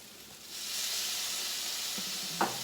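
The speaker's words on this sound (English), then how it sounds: "Just saute it a little bit to release the flavor" Two teaspoons of minced garlic hit a hot pan and sizzle steadily with a bright hiss, close and even, with a brief utensil scrape near the end.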